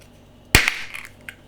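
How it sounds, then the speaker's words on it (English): A beer can of London Beer Factory Hazey Daze Session IPA, opened with a whole-top removal can opener, gives one sharp, loud pop-bang, followed by a brief metallic rattle and a small click. "We got one of those whole top removal can opener things on here."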